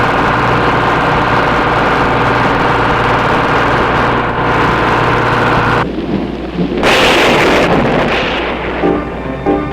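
A thunderstorm with steady heavy rain hissing throughout and deep rolling thunder, rising to a loud crack and rumble partway through, with an engine-like hum underneath at first.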